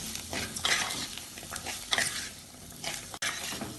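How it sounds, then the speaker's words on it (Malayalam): Diced potatoes with spices stirred and sautéed in a pan for a Kerala vada koottucurry, a steady sizzle broken by scraping spoon strokes at an irregular pace, close and without talk. "ഇതെല്ലാം കൂടി ഇളക്കി വഴറ്റാം."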